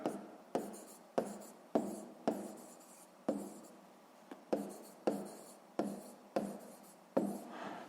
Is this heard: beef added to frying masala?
no